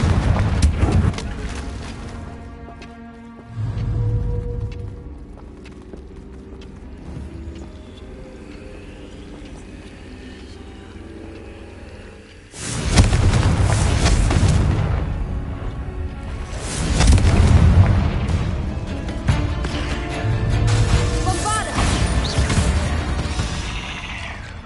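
A Confringo blasting curse explodes in Hogwarts Legacy: after a quieter stretch with a short thump, a loud broad blast erupts and rumbles on, followed by further heavy booming surges close by.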